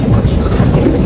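A Singapore MRT metro train runs with a loud, steady, close rumble of wheels and carriage noise filling the whole moment, with no voices.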